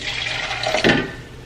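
Cooked spaghetti water pours from a pot into a pan for softening shrimp fettuccine Alfredo in a home kitchen, a short close splashing gush that peaks briefly midway over a quiet hiss.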